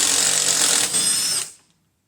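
A power drill whines at high speed, loud and close, while removing bolts from the skid plate of an off-road side-by-side, then winds down and stops.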